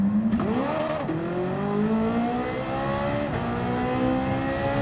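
A Ferrari spins out in Gran Turismo 7, its engine note swooping and revving through rising and falling pitch as the car loses grip, loud and continuous with no talking.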